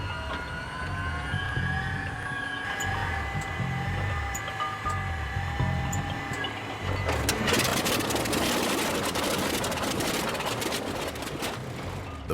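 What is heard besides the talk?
World War II-era aircraft engine cold start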